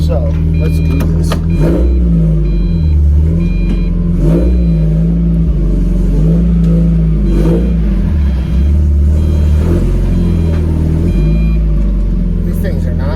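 A car engine with newly fitted exhaust and hood vents revs repeatedly, its deep rumble rising and falling in several surges over a steady idle, loud and close, with a faint high whine above.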